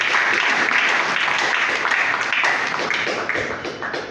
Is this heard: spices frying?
no